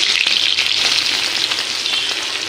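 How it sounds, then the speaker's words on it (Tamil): Curry leaves and onion sizzle in hot oil in a pan for Tamil crab masala, a steady bright crackling hiss running the whole time with small spits and pops, close and fairly loud with no voices. "இப்போ வந்து அதே எண்ணெயில் கருவேப்பிலை போட்டாச்சு"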